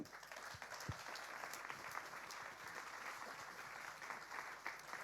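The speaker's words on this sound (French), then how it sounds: "Je vous propose d'applaudir" Sustained applause from a crowd at an awards ceremony in Paris, steady clapping at a distance, fairly faint.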